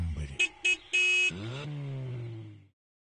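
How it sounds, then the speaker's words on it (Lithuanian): A toy car sound effect for a children's story plays in short cartoonish horn toots, followed by a longer revving engine tone that slides down and stops, clean and close with no talking. "Kaip ir kiekvieną rytą, automobiliukas Tobis įriedėjo į kambarį."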